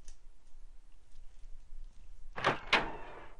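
A door opens in the survival horror game Resident Evil 3 Nemesis: two sharp, close mechanical clacks in quick succession after a quiet stretch of faint background ambience.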